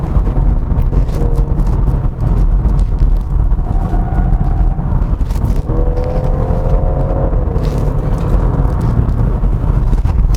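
A 2021 BMW 330e M Sport driven on a winding road: a steady, loud low rumble of engine and road noise from inside the car, with faint tire whirs and slight rises in pitch.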